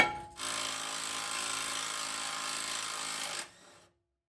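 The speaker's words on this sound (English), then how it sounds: "Now let's go ahead and unbolt the upper one that attaches to the frame." Power tool whirring steadily for about three seconds while unbolting the upper track bar bolt from the frame of a second-generation Ram truck, then winding down.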